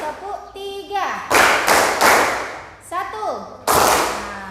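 Group of people clapping in a counting clap game, several sharp bursts of claps in sequence, with a voice calling out between the bursts.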